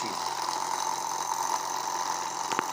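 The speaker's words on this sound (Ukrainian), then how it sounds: "Тобто двигун працює, споживає 16 Вт" Small electric motor drawing about 16 W runs steadily during a resonance heating experiment with a shorted coil carrying around 15 amps, giving a continuous mid-pitched hum with a faint whine, alone with no talk.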